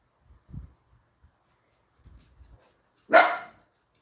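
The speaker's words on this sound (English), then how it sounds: "Dog just here gossiping" One sharp, loud dog bark rings out close by, after a few soft low thumps and rustles in an otherwise quiet setting.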